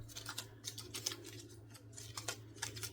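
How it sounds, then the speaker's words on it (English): Faint, quick papery flicks and riffling taps of cards being shuffled, in irregular bursts over a low hum. "So we'll shuffle these up."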